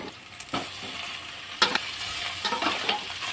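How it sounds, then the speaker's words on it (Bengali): Desi chicken fries with browned onions in mustard oil in a wok, giving a steady close sizzle broken by the scrape and clatter of stirring. "হালকা করে ভেজে নেব চিকেনটা।"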